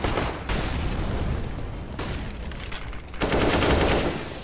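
Dense, continuous gunfire from a Counter-Strike match on the Overpass map, pistols among the weapons, with rapid overlapping shots filling the whole stretch and a louder burst near the end.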